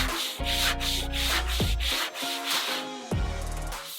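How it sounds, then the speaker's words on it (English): Abrasive sanding through thin wood veneer while building a wooden wherry boat, a close, steady rubbing scrape in repeated strokes with brief pauses, heard alone without talk. "I'm gonna stop and just grab an abrasive to try and finish this off"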